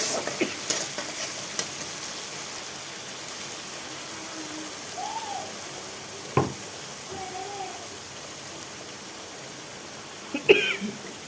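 Ground spice paste with black cumin frying in oil, giving a steady faint sizzle throughout, broken by a few brief knocks of a utensil and short bits of background sound.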